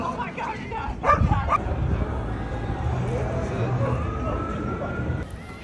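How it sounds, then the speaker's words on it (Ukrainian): Several dogs bark and yip at once in the distance, a busy overlapping chorus with a few sharper barks early on. "Много собак."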